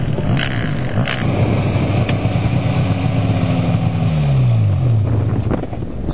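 Snowmobiles racing at a grass drag race in Manitoba, loud engines roaring continuously, with a rising and falling whine as machines pass, heavy wind noise over everything.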